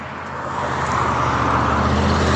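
A Hyundai car drives past on a road, its engine and tire noise swelling steadily louder and close by, heard alone without talk.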